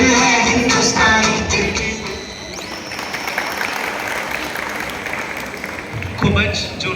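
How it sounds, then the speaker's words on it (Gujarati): Clapping from an audience at a Republic Day society event breaks out as a lively burst at the start, then trails into a mid-level crowd wash and picks up again briefly near the end, with voices mixed in. "ખૂબ જ જોરદાર તાળીઓ થઈ જાય ફરીથી એમની માટે."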